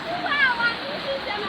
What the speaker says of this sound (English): This water current is very powerful.